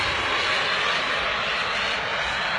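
A jet airplane roars loudly and steadily overhead, a broad continuous rushing engine noise with no voices.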